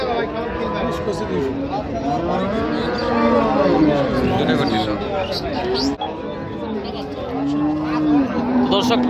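Dairy cows, some with calves, moo repeatedly in long, drawn-out calls at the Raniganj cattle market in Dinajpur district, over a constant din of crowd chatter and market bustle.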